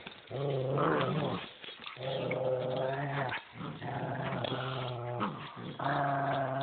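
Two dogs growl in long, rumbling bursts close by, trading low snarls with brief pauses between them.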